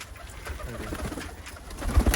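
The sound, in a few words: pigeons cooing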